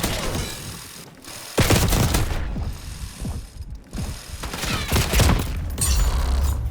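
A minigun in a video game fires in long, buzzing rotary bursts laced with mechanical whirring and clatter, loud and up close, broken by a few short gaps and restarts.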